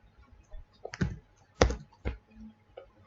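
A few keystrokes on a computer keyboard while typing a file name, sparse close clicks with gaps between, quiet room and no speech.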